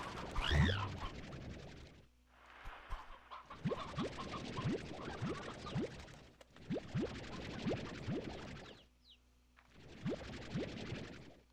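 Chickens in the Slime Rancher 2 game, with bouncy springy blips and repeated rising chirps in short bursts that stop and start over a quiet hum, close and fairly soft, with no voices.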